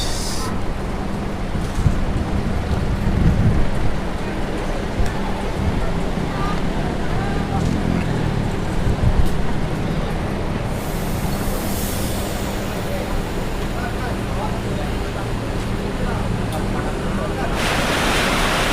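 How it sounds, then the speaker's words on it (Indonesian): Heavy rain pours steadily around a bus at the Kampung Rambutan terminal under dark skies, a dense continuous hiss filling the scene with faint rumble beneath it. "hujan turun."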